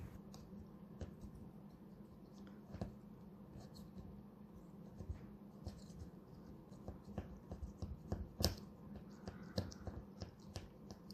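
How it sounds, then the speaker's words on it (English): A razor blade scrapes cured windshield repair residue off car glass in short, faint, scratchy strokes over a low background hum. "you can scrape off any residue with a razor blade"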